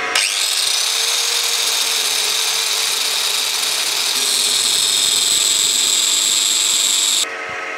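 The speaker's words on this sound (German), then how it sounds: "Dann brauche ich Flex und eine Schleifscheibe." An angle grinder with a grinding disc deburrs a workpiece spinning in a benchtop drill press, a loud continuous high grinding whine with a steady motor hum, shifting pitch partway through before cutting off near the end.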